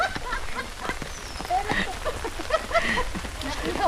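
Steady rain patters on a surface during a hike, a continuous hiss of drops, with some voices and scattered sounds mixed in.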